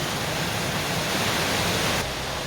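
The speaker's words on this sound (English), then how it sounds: "this is now the biggest waterfall I've seen so far today" The largest waterfall along the Caboolture River Falls in Queensland drops off boulders onto a rock slab, a loud, close, unbroken roar of rushing water.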